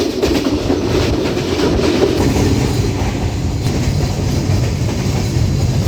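Inside a moving passenger train, a loud, continuous rumble with the rhythmic clatter of wheels over rail joints throughout, and no voices.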